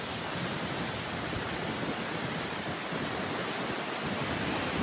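A waterfall in Iceland roaring as a steady, dense broadband rush, loud and unbroken throughout with no distinct pauses.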